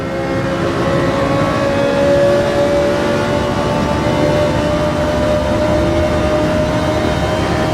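Racing cars roar flat-out side by side in a straight-line drag race in a racing video game, a loud steady engine drone running unbroken throughout with no talk.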